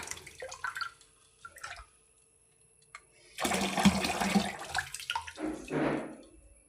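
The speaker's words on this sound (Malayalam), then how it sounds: "ഇതിൽ തന്നെ അരിയിട്ട് കഴുകി അതിൽ തന്നെ വെള്ളം പിടിക്കുകയാണ്" Water runs from a tap into a pot of washed rice, first as scattered drips and small splashes, then as a loud gushing fill in two bursts.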